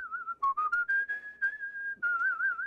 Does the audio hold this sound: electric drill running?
no